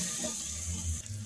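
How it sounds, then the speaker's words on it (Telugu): Water splashes into a pressure cooker pan of cluster bean curry (goruchikkudu kayalu) with garam masala, a steady close pour lasting about a second before it tapers off. "ఇప్పుడు ఇందులోనే ఒక 1/2 గ్లాస్ వాటర్ వేసుకుందాం"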